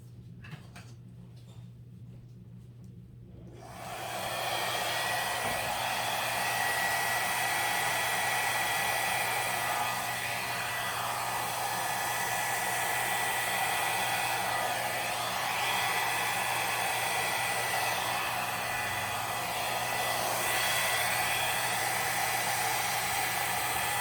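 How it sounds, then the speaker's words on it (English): A hair dryer switches on after a few seconds of quiet and blows steadily with a loud, even whoosh for the rest of the clip. "now I'm gonna hit it with a hair dryer"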